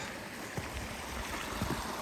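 Tilly Jane Creek, a small pristine mountain stream in a snowy winter setting, rushes with a steady, broadband burble that stays even and fairly close throughout, with no voices.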